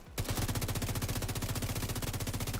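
The Test Subject gun in The Division 2 fires a fast, steady automatic stream of shots that starts abruptly and keeps an even rhythm throughout, loud and close with no talking.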